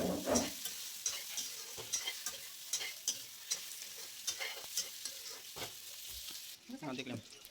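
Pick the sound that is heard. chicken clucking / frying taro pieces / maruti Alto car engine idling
frying taro pieces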